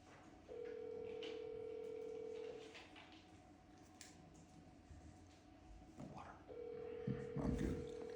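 A telephone dial tone sounds as a steady, clear hum before a phone call at a fire district board meeting, cutting off, then returning later with faint background voices and a brief dove-like coo.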